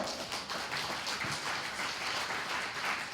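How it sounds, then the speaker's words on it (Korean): A crowd at a Democratic Party joint campaign rally in Busan for party leader and supreme council candidates applauds steadily, a continuous distant wash of many hands clapping. "모두에게 박수 한번 주십시오"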